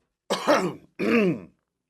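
Two harsh throat clearings in quick succession, close and fairly loud, with a short pause between them and no talking.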